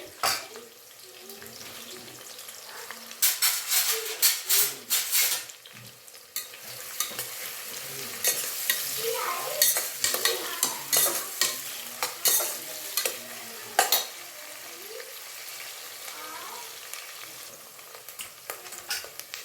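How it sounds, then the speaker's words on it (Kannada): Onions frying in a pan for green tomato bath: a close, busy run of sizzling with frequent clattering stirs and scrapes, plus some running-water sounds and a few faint voices in the background. "ಇದಿಷ್ಟು ಈರುಳ್ಳಿ ಚೆನ್ನಾಗಿ ಫ್ರೈ ಆಗಲಿ"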